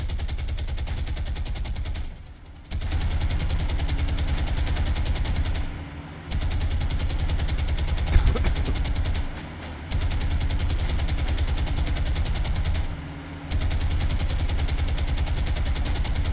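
Naval anti-aircraft guns firing in War on the Sea, a dense, continuous barrage of rapid loud bursts that runs without letup and breaks only for a few brief pauses.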